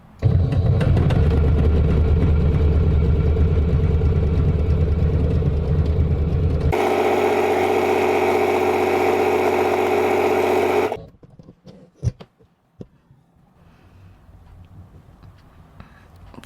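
A home sewing machine stitches along a fabric edge on automatic settings, a loud continuous mechanical whir that changes pitch and tone midway, then stops abruptly, leaving faint handling clicks and small knocks.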